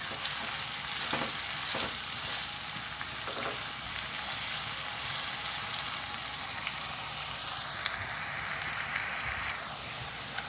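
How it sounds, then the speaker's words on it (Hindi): Chopped onions fry in hot oil with a steady, loud, hissing sizzle throughout, a few stirring strokes rising briefly out of the crackle. "प्याज को गोल्डन फ्राई करेंगे।"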